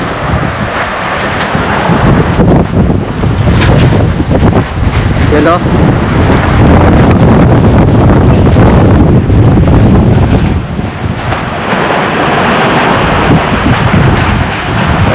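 Strong wind buffets the microphone over crashing white-capped ocean waves in a loud, continuous roar, with a voice speaking briefly.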